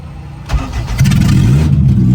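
A Suzuki Khyber car fitted with a B18C engine cranks briefly, then catches and settles into a steady, loud, close idle with a low throbbing rumble.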